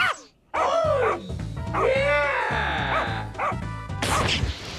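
A cartoon dog barks and yips in a run of loud, close, exaggerated voiced barks with whiny pitch swoops, one after another, over a low background rumble.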